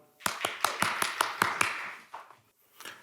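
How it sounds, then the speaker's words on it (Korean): Clapping at a metaverse conference as the presenter is welcomed: a handful of sharp, evenly spaced claps close by, quickly tapering into a few scattered ones before fading out. "우리 큰 박수로 환영해 주시기 바랍니다."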